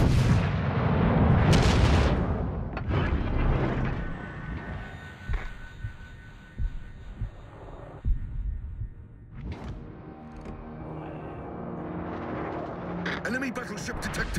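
Warship artillery in World of Warships: Legends, with heavy booming salvos and deep rumbles, loud at first then fading into scattered blasts, as voices speak over the fire.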